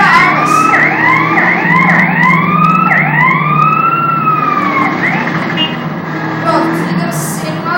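A wailing vehicle siren in the game GTA San Andreas cycles loudly up and down for several seconds, then cuts off, with a faint voice in the background.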